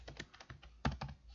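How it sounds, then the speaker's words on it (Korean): Quick keystrokes tapped on a computer keyboard in a quiet room, a brief irregular burst of soft clicks with one louder key strike near the middle. "타자가 잘 안 되네."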